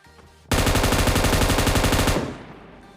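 Rapid full-auto fire from an M249 light machine gun in the shooter game PUBG, a loud, steady stream of closely spaced shots lasting under two seconds, ending with a brief fading echo and no talk.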